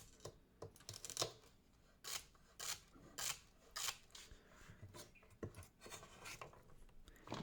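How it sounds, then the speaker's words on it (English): Celery stalks are cut with a knife for a lamb osso buco sauce, giving a series of crisp, rasping chops in uneven bursts, close and fairly quiet, with no talking. "Next up, we got the celery stacks. Again, very simple cut."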